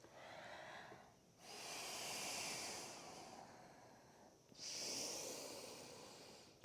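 Two long, slow yoga breaths, each a soft airy inhale swelling into a hissing exhale, quiet and close with nothing else around them.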